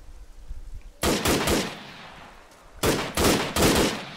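Gunfire in the ARMA 3 video game: two loud bursts of rapid shots about two seconds apart, each a cluster of sharp cracks, with quieter background between them.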